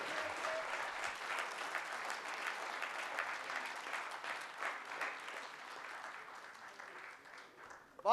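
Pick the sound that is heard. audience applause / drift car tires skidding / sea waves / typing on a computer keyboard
audience applause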